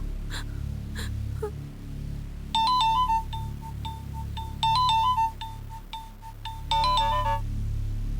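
An electronic phone ringtone plays in repeated melodic bursts in a Hindi-dubbed South Indian action movie scene, fairly close, with breathy sounds and low background hum before it starts.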